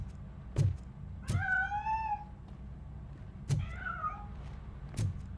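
A cat in the video game RoboCop Rogue City lets out two drawn-out, rising-then-falling meows as it escapes, with sharp thuds and knocks around them over a low steady background hum.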